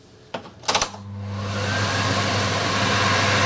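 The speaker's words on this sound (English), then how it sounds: "I'm also going to turn on my cooker hood. That makes a lot of noise" A kitchen cooker hood switches on after a couple of clicks and rises into a steady, loud whooshing fan roar with a low motor hum that holds constant.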